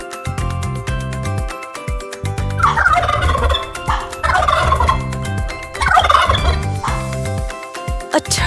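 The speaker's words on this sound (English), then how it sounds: "A turkey." A turkey gobbles in three loud, rattling bursts spaced a few seconds apart, heard over rhythmic background music with a steady beat.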